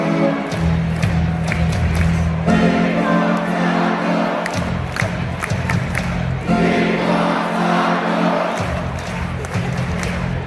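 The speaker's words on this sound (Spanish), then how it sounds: "la ovación era brutal" A crowd roars in a sustained, loud ovation at a Boston Celtics NBA basketball game, with cheers and whoops rising over steady arena noise and a low, droning background for about ten seconds.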